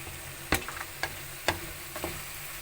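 Stick meat sizzles steadily in a frying pan and is turned over, with a few sharp scraping knocks against the pan at irregular intervals over the hiss.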